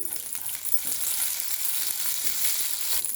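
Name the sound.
fennel seeds frying in hot oil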